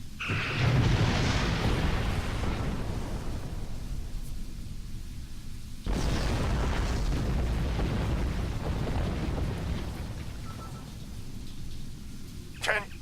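Star Trek Online space combat plays out as ship weapons auto-fire and explosions rumble in long, loud, roaring bursts, with one sharp surge midway and a brief electronic chirp near the end.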